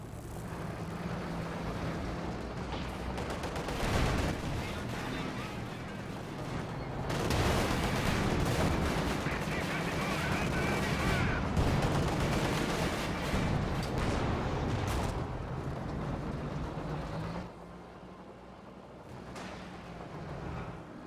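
Continuous battlefield gunfire and artillery in Company of Heroes 2, a dense, rumbling wash of distant shots and blasts that swells in the middle and eases toward the end.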